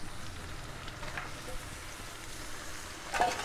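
Duck meat added to a pan of browned onions frying with a steady soft sizzle, a brief louder clatter of stirring near the end, no voices.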